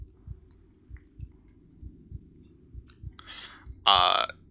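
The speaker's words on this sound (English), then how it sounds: "The heartbeat music is spooky." A heartbeat sound effect thumps steadily and softly in a slow rhythm beneath the background of a tabletop game session, with a few brief brighter noises and a louder burst near the end.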